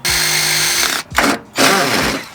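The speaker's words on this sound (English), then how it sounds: "I'm just gonna drill a hole with a self-tapper" A power drill drives a self-tapping screw into a car body kit panel, a close, loud whir that rises, cuts out briefly, then spins up again in two quick bursts.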